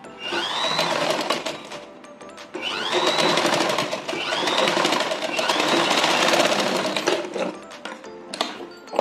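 A tailoring sewing machine stitches a fabric strip onto a garment front in four loud, close bursts of rapid whirring needle action, each lasting about two seconds with brief pauses between; no talking.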